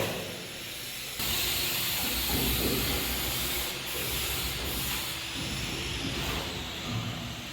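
Steady hissing spray of wall texture being sprayed onto a wall in a house under construction, a broadband rush running continuously after a quieter start, close by with no talking.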